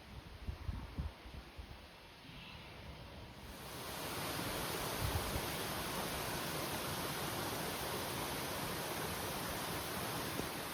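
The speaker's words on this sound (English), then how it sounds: "This is further up the stream before it goes over through that gap to a waterfall." A mountain stream runs toward a waterfall at over 1,000 metres, its steady broadband rush growing louder and denser after a few seconds and then holding constant, with no talk.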